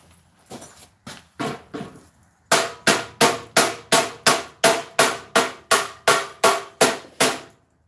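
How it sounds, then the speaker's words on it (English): Metallic hammer strikes on a pipe of an old military jeep seat: a few irregular knocks, then a steady run of about fourteen evenly spaced, ringing blows, close and loud. "see if I got a little old hammer right here. I might can try to knock some of that loose."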